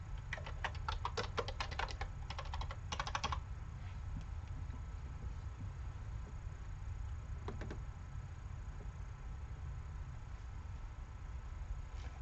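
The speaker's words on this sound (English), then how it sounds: "This is the world's tiniest keyboard." Fast bursts of key taps on a very small computer keyboard come in a cluster during the first few seconds, then a couple of isolated clicks later over a low, steady hum.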